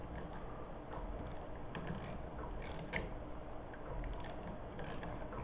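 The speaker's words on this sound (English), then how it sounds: "Use a 9mm socket or a box wrench, either one." A 9mm socket wrench ratchets in quiet, steady clicks while tightening a bolt on the shift linkage cable of an adult tricycle, with low background noise and no talk.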